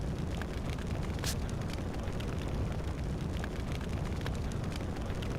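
Steady crackling roar of fire burning in the role-playing video game Radiant Historia, a dense continuous rumble at moderate level with scattered sharp pops and no voices over it.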